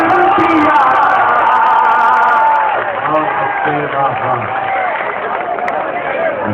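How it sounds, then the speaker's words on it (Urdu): Audience applause and crowd noise at a mushaira poetry gathering in Mau, a dense steady clatter of clapping mixed with voices and cheers, loud throughout and easing slightly after the first few seconds. "آپ بہت کمزور تالی بجا رہے ہیں"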